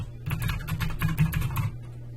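Typing on a computer keyboard while entering a search term into a library research database, a quick, steady run of clicking keystrokes lasting under two seconds, heard alone at close range.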